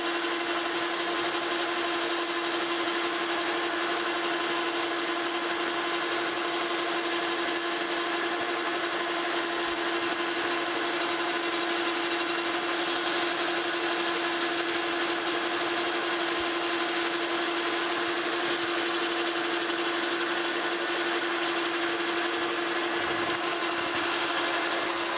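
Continuous steady whine and hum of a metal lathe turning a replacement shaft for a New Haven metal planer, with a constant tone and faint cutting chatter, loud and unbroken throughout.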